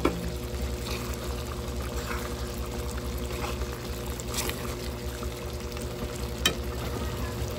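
Beef caldereta with potatoes and carrots being stirred in a pot, a steady bubbling simmer with soft scraping and clinks running throughout, close and fairly even, no voices.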